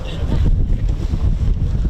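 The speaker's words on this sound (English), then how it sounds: "It's so windy, I can't find it." Strong wind at an outdoor airshow buffets the microphone, a steady loud roar and rumble with gusty fluctuations throughout, no other sound standing out.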